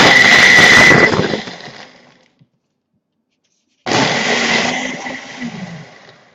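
A loud Ninja blender roars briefly, spins down to silence, then whirs up again with a harsh grinding, close and alone without voices.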